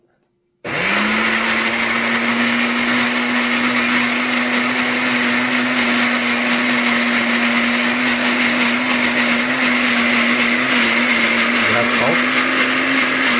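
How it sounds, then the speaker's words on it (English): A blender kicks on abruptly and runs continuously, grinding basil pesto ingredients with a loud, steady high whir that holds for over twelve seconds, a brief dip near the end. "And then you blend."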